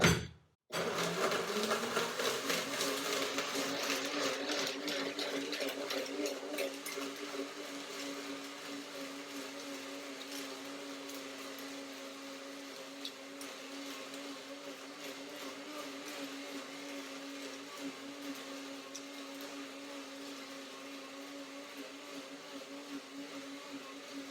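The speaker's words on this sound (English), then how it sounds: "That was the first blending to break down the nuts and the dates too." A blender chops cashews, other nuts and dried dates. It starts with a sharp jolt, then runs as a loud, steady motor whir for over twenty seconds, alone and gradually settling into a smoother drone.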